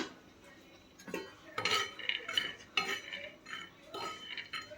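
Peanuts being stirred and dry-roasted on a hot tawa over a very low gas flame give off scattered scraping clinks and rattling bursts of a utensil against the pan, near and moderately loud, with no one speaking.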